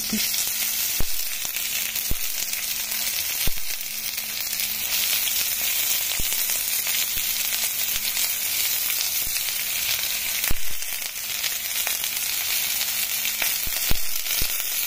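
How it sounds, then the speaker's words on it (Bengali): Onions frying in a pan for a black cumin seed chutney give a steady, close sizzle throughout, broken by a few sharp clicks and spatters, with no voices. "এরপর একে একে পেঁয়াজ ছেড়ে দেব।"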